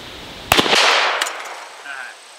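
Sharp, loud gunshots from a Ruger Blackhawk .357 Magnum revolver fired outdoors at a can, a close crack with a lingering rumble, followed by a second quicker report.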